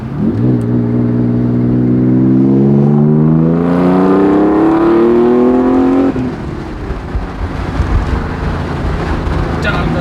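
A turbocharged Nissan 300ZX engine revs hard and climbs in pitch as it accelerates for several seconds, windows down, then drops off to a steady cruising rumble with wind noise.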